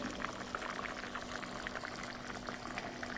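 Pot of dal (lentils) simmering, a faint steady bubbling and crackle with soft pops spread throughout, close but quiet under a low hum.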